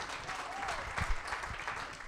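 A crowd at a live event for Packers linebacker De'Vondre Campbell claps, a soft, dense patter of applause at moderate distance with a few sharper claps and faint voices underneath.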